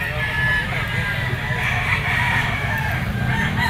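Kelso gamefowl rooster clucking, soft repeated clucks over a dense, noisy background, with voices talking nearby.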